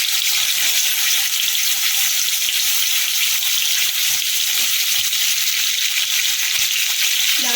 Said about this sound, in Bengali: কপিটা অনেকটাই ভাজা হয়ে এসছে আর একটু ভাজবো